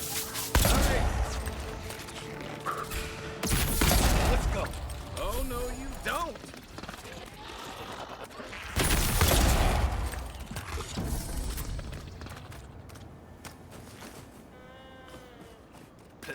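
Pistol gunfire in the video game Avowed: several loud, sharp bursts of shots come in uneven clusters, mixed with game effects and a voice talking between them.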